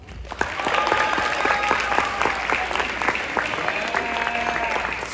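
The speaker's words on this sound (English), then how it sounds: "Keep clapping" A crowd at a high school band banquet awards night applauds in a steady, dense burst of clapping that lasts throughout, with a few louder claps standing out and faint voices mixed underneath.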